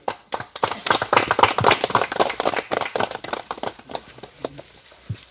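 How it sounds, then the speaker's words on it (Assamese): A crowd claps at a waterfall opening ceremony attended by an MLA. The clapping is dense and close, with sharp, uneven hand claps that thin out toward the end. "সকলোকে হাত চাপৰি দিয়ক"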